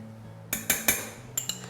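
A spoon clinks against a plate while salmon roe is being served, with a few sharp metallic taps in quick succession, then two more lighter clinks.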